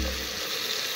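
Chicken bhuna masala fries in a pan with a steady, dense sizzle throughout the short moment, no voices.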